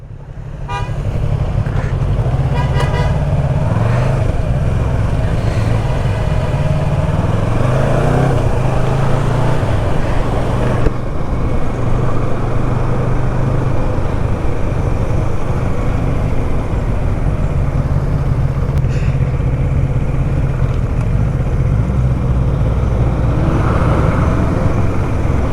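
Road traffic jammed on the descent from Ooty with lorries crawling along, with a constant engine rumble and repeated car horn toots, loudest early on, plus a few later honks.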